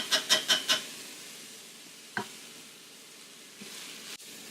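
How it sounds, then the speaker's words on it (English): Garlic hits a hot pan for black-eyed peas: a quick burst of about four loud sizzling spits, then a quieter steady fry with a few scattered crackles and one sharp clack near the end. "I'm going to go ahead and throw my garlic in"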